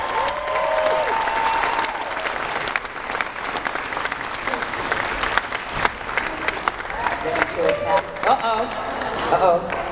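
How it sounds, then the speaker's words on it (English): A comic con crowd applauds a wolf cosplayer, with steady clapping and scattered cheers at fairly close range, while voices talk and call out over the noise. "give a massive round of applause for being such a good boy"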